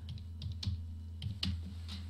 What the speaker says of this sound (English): and you type in Firefox